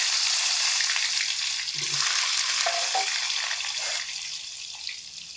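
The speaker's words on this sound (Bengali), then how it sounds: "তেলের মধ্যে কেটে রাখা আলুর পিসগুলোকে দিয়ে লাল লাল করে ভেজে নেব" Cut potato pieces fry in hot oil in a home kitchen, giving a steady, loud sizzle and crackle close by with a few faint clinks, easing slightly toward the end.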